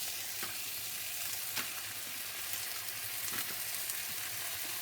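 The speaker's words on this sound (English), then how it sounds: "you want to tip your tomatoes and garlic into the frying pan" Roasted tomatoes and garlic tipped into a frying pan sizzle and spit steadily, a soft continuous crackle with occasional sharper pops, heard alone without talk.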